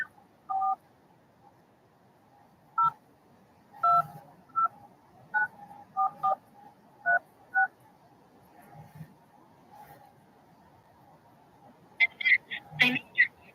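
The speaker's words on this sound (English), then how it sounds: "So you can say or enter that number 1 digit at a time." Telephone keypad tones ring out one digit at a time as a user ID number is entered on an automated phone line, about a dozen short separate beeps at uneven intervals, with a brief burst of faint speech near the end.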